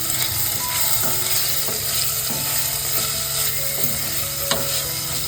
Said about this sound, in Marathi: आपला कांदा टमाटर चांगला परतून झालेला आहे